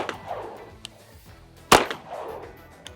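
A single sharp, loud handgun shot at close range during shooting practice, with quieter background handling noises before and after.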